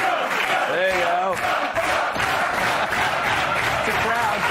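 A studio audience at a TV talk show roars and cheers loudly, with shouted voices rising over a dense crowd wash and some clapping, sustained across the whole moment.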